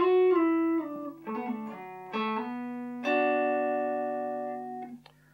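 Electric guitar playing a worship-style part, a slow melodic phrase of clean sustained notes and a few double-stops that ends on a long ringing note, played alone with no voices.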